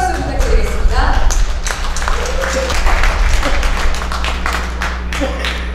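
Loud, sustained clapping from a crowd at a political party founding ceremony, dense and continuous with a low hum underneath.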